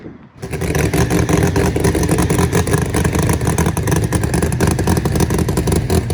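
Murder Nova drag race car engine roars at full throttle on a drag strip, a loud, dense, continuous mechanical blast starting abruptly and holding for several seconds.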